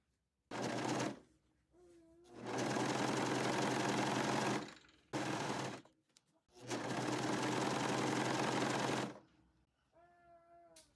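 A sewing machine runs in two long bursts, stitching a stretched neckband onto a dress, a loud close whirring hum separated by short pauses, with a few faint thin sounds in the gaps.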